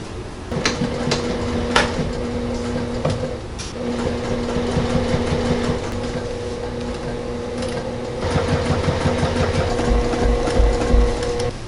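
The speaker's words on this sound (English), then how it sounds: "Just applying a basting stitch, and then I'll go ahead and attach the rest of this." A sewing machine runs a basting stitch through a puffer jacket, with bursts of rapid mechanical whirring and needle chatter, brief pauses and clicks between runs, heard close and steady.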